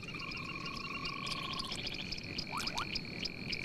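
A shovel-nosed frog calls in a rapid series of high, buzzy croaks and trills, layered with other steady chirping calls from a dense nighttime chorus, all fairly close and continuous with no speech.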